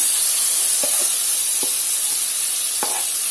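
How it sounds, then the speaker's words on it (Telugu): Marinated chicken sizzles in hot oil for a chicken biryani, a steady loud hiss with a few small pops and stirring clinks on top, close by and without talk. "నూనె వేడెక్కిందండి దీంట్లోకి నానబెట్టుకున్న చికెన్ మొత్తం వేసేసుకోండి"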